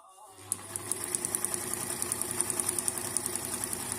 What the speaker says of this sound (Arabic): شوف الخياطة الخلف شغالة فيها، شغالة ما شاء الله، قوية قوية.